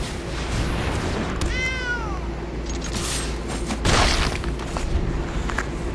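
Cat meow sound effect in a digital card game, a single rising and falling meow over a busy game soundscape with a dull boom partway through.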